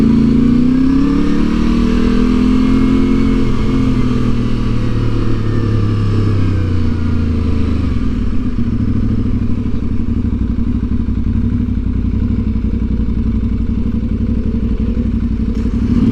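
An Aprilia Tuareg 660 motorcycle rides through turns in North Wales, its engine droning loud and steady with shifting pitch under heavy wind rush.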